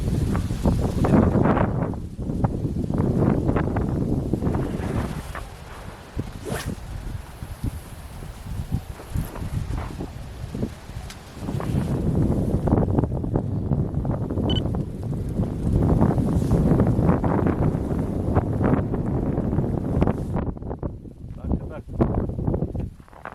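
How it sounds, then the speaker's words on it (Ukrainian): Strong gusts of cold winter wind at a snowy lake buffet the microphone in heavy, roaring waves while carp fishing, with a person speaking Ukrainian intermittently underneath. "Мало того, що морозить вітер."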